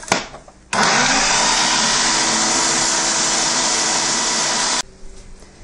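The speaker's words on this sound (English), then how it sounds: "we're going to go ahead and grind it until we have a powder again" A food processor grinds pistachios into powder for macarons, one loud, steady whirring roar that starts abruptly, holds evenly for about four seconds and then cuts off, with quieter kitchen noise before and after.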